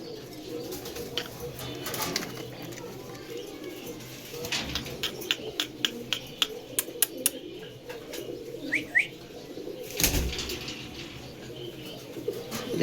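Lakka (fantail) pigeons coo softly in a loft with a few brief chirps and a short burst of wing flapping, moderately close over a low background murmur.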